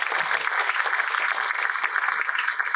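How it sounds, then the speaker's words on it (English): An audience at a school commencement ceremony claps steadily, a dense and even wash of applause from many hands that holds at the same level throughout. "If you could give them a round of applause."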